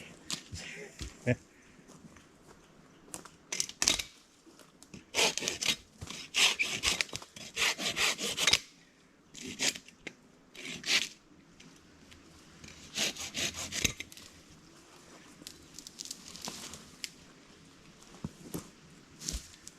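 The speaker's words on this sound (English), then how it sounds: "these silky saws, this is the 2000, and this makes it extremely light work with these smaller branches" Hand saws, a Silky Katanaboy 500 and a Big Boy 2000, cutting small branches during trail clearing in Alberta, Canada, with repeated bursts of rasping back-and-forth strokes through wood, close and fairly loud, separated by short pauses.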